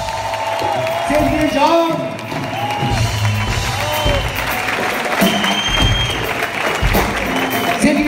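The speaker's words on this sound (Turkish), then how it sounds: "Kocaman bir alkış!" Concert audience clapping and cheering for the orchestra at the close of a show, a busy hall din beneath a host calling out names and lingering musical tones.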